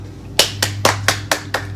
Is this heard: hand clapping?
yes